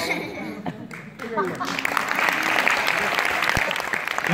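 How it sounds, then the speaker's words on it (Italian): Theatre audience at a cinema comedy show starts clapping after some talk and laughter, the applause building and holding steady for a couple of seconds. "un applauso grande"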